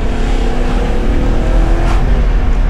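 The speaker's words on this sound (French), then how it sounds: "Mais quel plaisir de cruiser avec le son du V8." A V8 collector car bought in Slovakia, cruising with its engine rumbling and revving loud and close, a steady deep drone that holds throughout with no speech.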